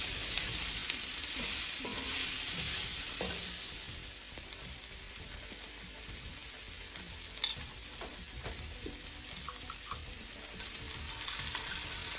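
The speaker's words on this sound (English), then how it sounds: "I'm going to add in the garlic the last like minute or so" Garlic sizzles and fries steadily in a gumbo pot, a continuous close hiss with occasional stirring scrapes and small ticks, no voices.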